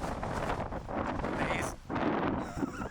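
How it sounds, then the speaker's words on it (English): Strong wind gusting outdoors beside a small graveyard, a loud continuous roar of buffeting that drops out briefly near the end and then returns. "very windy"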